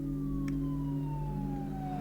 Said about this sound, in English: Sirens? Yes, those are definitely sirens.